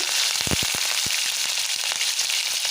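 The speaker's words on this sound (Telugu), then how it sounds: "ఒక ఎండుమిర్చి శనగపప్పు ఇలా ఆయిల్లో మంచిగా గోలిన తర్వాత పచ్చిమిర్చి" Green chillies fry in hot oil alongside dried red chilli and chana dal, giving a loud, steady close-up sizzle with sharp crackling pops and no talking.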